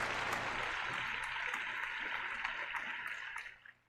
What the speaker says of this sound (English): And a big round of applause for Jess.